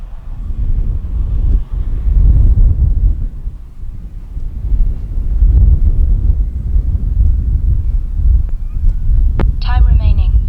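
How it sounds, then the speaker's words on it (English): Strong, steady wind roaring and buffeting a microphone during an RC P-40B airplane flight, a low rumbling rush with a brief higher whine near the end. "Boy, it's windy, man."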